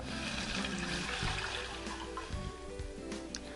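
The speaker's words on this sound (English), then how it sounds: "Next, we'll add a can of Kroger beef broth." A can of Kroger beef broth is poured into a hot pan, a continuous gushing, splashing stream with a faint sizzle underneath.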